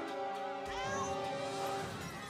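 A cat in the South Park video game lets out a long, drawn-out meow, loud and close, with a short thump at its start and faint game sounds behind it.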